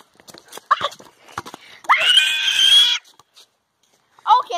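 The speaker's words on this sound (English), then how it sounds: "He screams like a girl." A boy lets out one loud, sustained, high-pitched scream lasting about a second during basketball practice with a friend, after short bursts of nearby talk and thumps, with another brief shout at the end.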